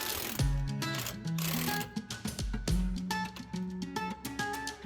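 Ratcheting and clanking tool work while taking bolts off a brake caliper on a 1999-2007 Ford F-250 rear brake, a run of quick mechanical clicks and rattles with short pauses, close and moderately loud.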